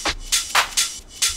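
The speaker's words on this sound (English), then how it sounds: "Next, we've got the drum group. Sounds like this." Drum group mix from a speed garage track, heard as a short syncopated loop of crisp shuffling hi-hats and snare hits over a low kick, playing alone and fairly loud.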